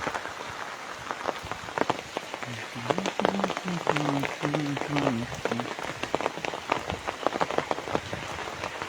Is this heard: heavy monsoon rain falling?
yes